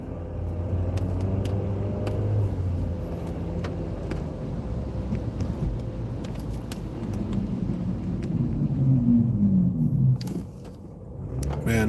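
From inside a moving car, a steady low engine and road rumble drones throughout, with a faint muffled voice in the cabin.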